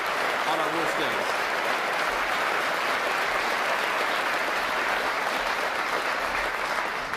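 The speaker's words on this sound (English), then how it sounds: "I hope all of us will give a big round of applause" A crowd gives a long, dense round of applause at a news conference. The clapping is loud and steady throughout, and voices can be heard faintly beneath it.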